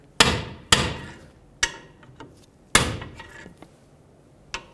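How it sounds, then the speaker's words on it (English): Sharp metallic hammer blows on a pry bar bending a washer on a 2001-06 Toyota Camry tie rod, four loud strikes with a few lighter taps between, irregularly spaced and close up. "So use a pry bar and a hammer."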